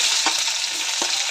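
Onion frying in hot oil in a kadhai after mustard seeds and cumin for bhindi bhaji, a loud steady sizzle with a couple of short stirring clacks, close and alone.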